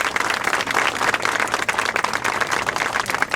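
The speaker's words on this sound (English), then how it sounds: "Let's give him a round of applause to do this." Applause rings out for a project leader at a Portuguese Heritage Monument event, a continuous wash of many hands clapping, fairly loud and close, with no voices over it.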